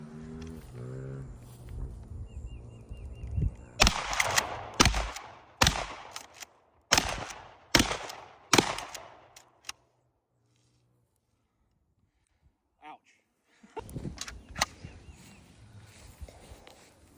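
A 12 gauge shotgun firing 3 1/2 inch magnum shells, five sharp loud blasts in quick succession, each with a short echoing tail, then a pause and further clatter, with people talking before the shots.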